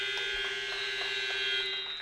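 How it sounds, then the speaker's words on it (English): A sustained electronic buzzer sounds at a women's basketball game, marking the end of the first quarter, loud and unbroken for the full two seconds over faint gym background. "And there's the buzzer ending the first quarter."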